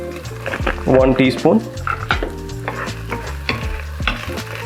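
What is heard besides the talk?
garlic and red chili flakes frying in a pan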